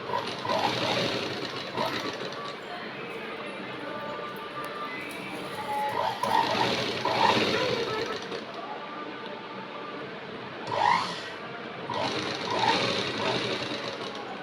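A sewing machine stitches the edge of a crepe saree in several short runs of fast, whirring needle chatter separated by pauses, with a person talking throughout.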